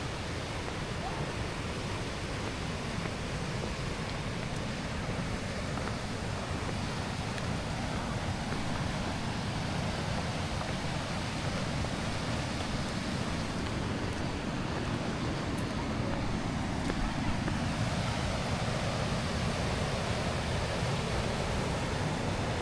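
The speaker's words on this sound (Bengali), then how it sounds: "এই দিক থেকে জলটা ফ্লো হয়ে এদিকে আসছে।" A stream flows past a Shiva lingam at Ramtirtha Nature Camp in Odisha, giving a steady, dense rush of water that stays close and even throughout, with no voices over it.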